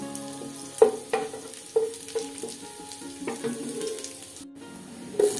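Onion frying in oil in a pan for a rice dish, a soft, close sizzle with scattered pops and stirring scrapes at irregular intervals, no talking.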